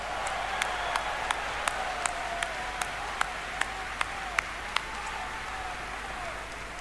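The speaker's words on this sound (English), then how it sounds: "Please give yourselves a round of applause." A large convention audience at BlizzCon applauds in a steady, dense wash of clapping that holds evenly throughout, with sharper individual claps standing out at intervals.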